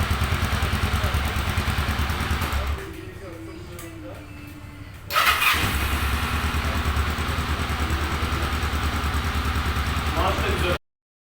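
A Kawasaki KLE 500 motorcycle engine idles close by after a starter one-way clutch replacement, with no throttle applied. The steady, even mechanical chugging drops out briefly around the middle, then resumes before an abrupt cutoff, with talk at times.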